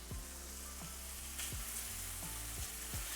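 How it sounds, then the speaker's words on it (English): Shrimp fry in olive oil with a dense, steady sizzle close up, broken by soft scraping stirs at regular intervals, and no voices. "you can hear them frying away now, all in that awesome olive oil"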